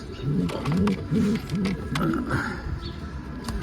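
Karan akışlı pigeons in a coop, cooing in repeated rhythmic bursts close by, with faint wing or movement sounds in between.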